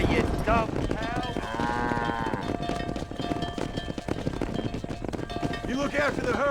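Cattle herd being driven in Red Dead Redemption, with lowing cows and steady hoof movement under game music and shouted voices throughout.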